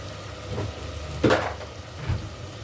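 Fish curry ingredients sauté in a pan with a low, continuous sizzle, broken by a few brief spatula scrapes and knocks against the pan.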